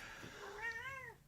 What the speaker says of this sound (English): yes, that's the cat.